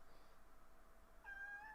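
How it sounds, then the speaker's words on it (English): A cat wanting attention lets out a faint, short meow near the end, after quiet room noise with no talking. "Oh, I got a cat here wanting attention."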